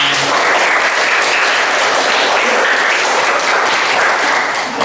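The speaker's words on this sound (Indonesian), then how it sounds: "Beri aplaus buat kelompok pertama." A classroom full of students claps for the first presenting group, a dense, loud and steady burst of applause with no speech over it.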